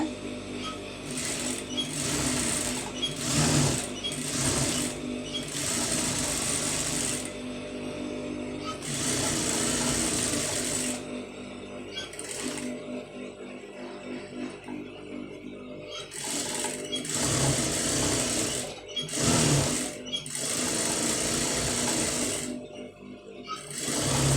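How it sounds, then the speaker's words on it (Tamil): A sewing machine runs in repeated bursts while stitching a patch design onto a blouse sleeve, with steady whirring runs broken by short pauses, close and loud throughout. "கரெக்டாக ஒட்டு தையல் வந்து ஒன்று போட்டுருங்க"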